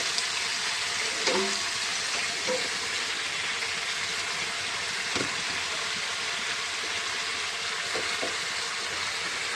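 In a home kitchen, water goes into a hot cooking pan of fish and greens and sets off a steady, hissing sizzle with a few faint clinks.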